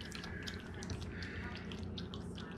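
A dog laps water in a backyard, giving a quick, steady run of wet splashy laps close by with no voices.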